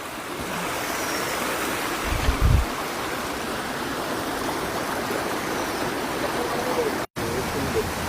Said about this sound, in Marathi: अतिशय सुंदर असा हा पाण्याचा प्रवाह